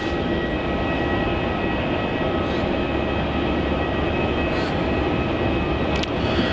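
An airliner landing on runway 16 at Melbourne Airport, a steady loud broadband engine roar that holds unbroken throughout, heard from outdoors with no talking.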